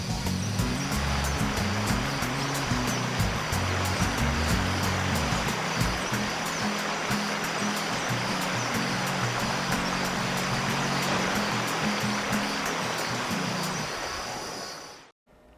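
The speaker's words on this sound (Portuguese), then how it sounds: "Se você curte natureza e gostou dessa cascata e gostaria de estar aqui onde eu estou" A waterfall in Rio Grande do Sul cascades in a continuous, dense rushing roar, steady throughout before cutting off at the end, with no voices.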